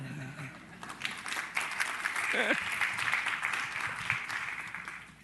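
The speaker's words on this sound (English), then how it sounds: "I feel like I ought to ask for a round of applause for my able assistants here" Audience applause builds and holds steadily for several seconds, with a voice briefly audible near the start and middle.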